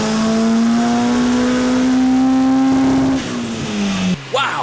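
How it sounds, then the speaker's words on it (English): A loud turbocharged CRX engine revs steadily upward under load on a dyno, holding a high strained pitch for a few seconds, then drops off sharply and settles back down. "Okay, here we go for our first run on the dyno."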